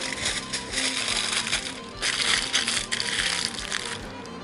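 Aluminum foil, drizzled with olive oil, crinkles and rustles close up as it is folded over garlic bulbs for roasting, in irregular loud bursts with no talk.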